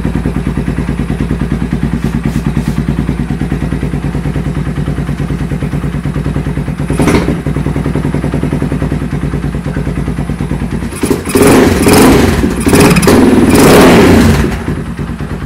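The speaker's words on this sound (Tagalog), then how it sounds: "Angil ng angil yung starter. Andar ng andar." A motorcycle with a battery grounding fault runs with a steady clattering idle, then revs up in several loud rising bursts near the end, close and alone without talk.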